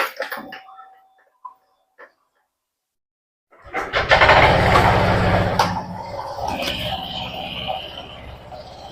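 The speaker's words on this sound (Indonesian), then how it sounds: "kita coba lagi mesinnya" A Honda Vario 125 scooter engine is started after a CVT service, kicking in after a few seconds of near silence and small clicks, then idling close by with a steady mid-pitched hum.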